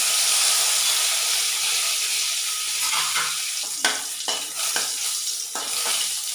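Curry leaves and mustard seeds crackle in hot oil in a pan, a steady close sizzle punctuated by several sharp pops and spits over the last few seconds.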